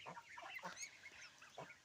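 Young geese and other poultry call faintly in a yard, with short honks and clucks from several birds overlapping at irregular intervals.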